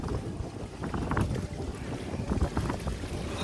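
Paddling a round woven basket boat on water in Vietnam, with steady sloshing and dipping sounds under continuous wind noise buffeting the microphone, fairly loud and close throughout.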